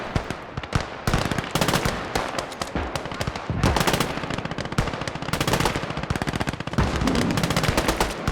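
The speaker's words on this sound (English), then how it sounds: "We got an MG in the forest here. Fire up!" A machine gun in the video game Gates of Hell fires long, sustained bursts of rapid, loud shots from a forest position, continuous and dense with no pauses, and no voices.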